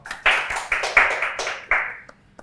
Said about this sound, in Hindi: गाइस एक बार जोरदार तालियां होनी चाहिए फॉर द होल टीम।